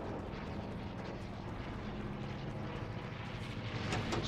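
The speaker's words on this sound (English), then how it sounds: "Oh yeah, that's where that plane is." A plane in the video game Fortnite drones steadily with a faint, continuous engine hum throughout, no voices over it.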